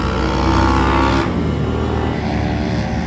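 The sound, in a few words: road traffic, cars and motorbikes passing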